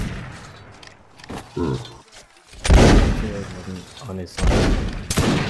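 Musket volleys crack through a video game battle with a line of British Coldstream Guards footguards: several sharp, loud shots arrive in bursts, interleaved with players talking over voice chat.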